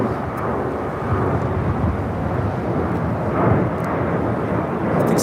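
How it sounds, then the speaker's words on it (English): An Alaska Airlines Boeing 737-800 takes off at LAX, a steady, loud broadband jet roar rumbling continuously throughout with slight swells in intensity, no voices present. "This is Alaska Airlines 1147 taking off to Seattle on a 737-800."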